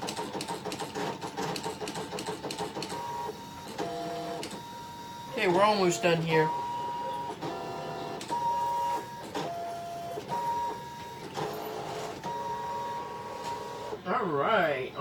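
Brother ScanNCut cutting machine running on a 3D nativity star shadow box piece, a steady mechanical whirr with rhythmic motor bursts and carriage sweeps, close and loud, while a person talks briefly over it.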